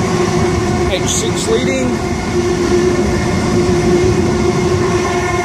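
A Sydney Oscar train runs empty past platform 1 at Penshurst station, a steady loud rumble with rail noise throughout, while a voice speaks briefly over it.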